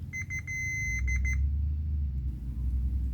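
A continuity tester gives a series of sharp electronic beeps on a plug's hot wire, short pulses then a longer held tone and a few more quick ones, over a low hum, then only hum.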